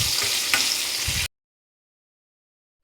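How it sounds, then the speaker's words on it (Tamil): Curry leaves and raw mango sauté in hot oil with a dense, steady sizzle and faint stirring, close and loud for about a second before cutting to silence. "வெங்காயம் போடாமல் கருவேப்பிலையும் மாங்காயும் போட்டு நல்லா வதக்கிக்கலாம்"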